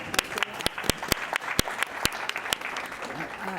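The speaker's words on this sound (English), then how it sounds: "That deserves a round of applause." Scattered, fairly sparse clapping from a club audience, with distinct individual claps ringing out over a faint background of murmuring voices, moderately quiet and uneven.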